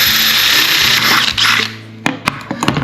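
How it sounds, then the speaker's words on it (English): A power drill whines steadily for about two seconds while drilling a hole in a metal lid, then stops; sharp clicks and knocks of handling follow close by. "I'm going to drill a hole right here in the top of the lid."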